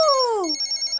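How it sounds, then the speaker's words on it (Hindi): A phone rings in a Hindi-dubbed film scene, giving a short, loud electronic ringtone with a falling tone followed by rapid repeated chirps, heard alone for about a second. "फोन बजा"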